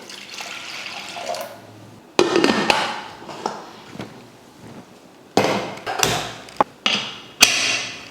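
Water poured into a pot of washed toor dal with turmeric in a home kitchen, heard as short splashing and trickling bursts between brief clatters, near and fairly loud, with no talking.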